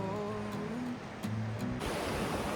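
Steady broadband rush of a flowing mountain river in Kananaskis, continuous and fairly near, with a brief low hum in the first part and no talking.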